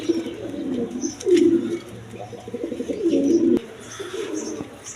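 A liver-coloured king pigeon coos in repeated low rolling phrases, three or four close swelling bursts with short pauses, alone and near.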